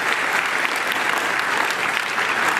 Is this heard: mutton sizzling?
no